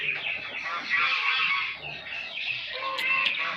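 Chinese geese honk loudly and continuously at close range, several birds calling over one another in a dense, overlapping clamor.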